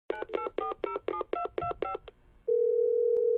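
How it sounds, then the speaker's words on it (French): Rapid run of eight electronic touch-tone beeps as a telephone number is dialed, followed by a steady continuous tone, close and clear with no voices, used as an audiobook sound effect. "Henri téléphone à son chef."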